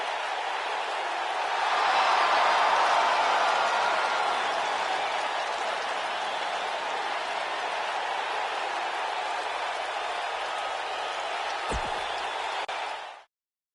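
A WWE 2K19 wrestling arena crowd applauds and cheers in a broad, loud, sustained roar that swells early, holds steady, then cuts off abruptly.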